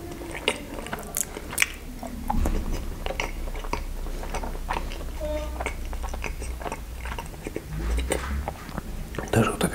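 Milk-flavoured Milka candy is bitten and chewed close up, with soft crunches, wet smacking and mouth sounds against a low hum, while a voice murmurs quietly in between.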